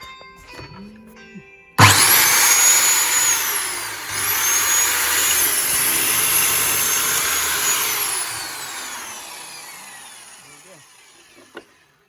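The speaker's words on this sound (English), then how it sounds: "That's the mitre cut." A MAC Allister mitre saw whirs up abruptly to a loud, high whine while making a 30-degree mitre cut through a workpiece, holds steady, then spins down gradually and fades out.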